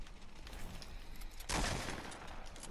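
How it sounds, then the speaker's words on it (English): Gunfire in the video game Fortnite, a muffled rattle of distant shots with one louder burst partway through, no one talking. "I hear him shooting."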